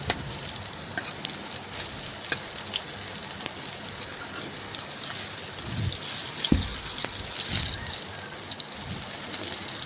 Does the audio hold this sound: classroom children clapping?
no